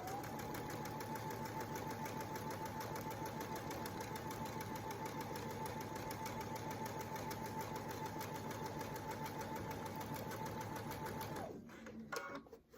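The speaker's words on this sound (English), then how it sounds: "I'm going to sew this seam down the 1/4 inch down this long side." Sewing machine runs a long quarter-inch quilt seam, a fast steady mechanical whir with a faint tone for about eleven seconds, then stops with a few clicks and handling noises.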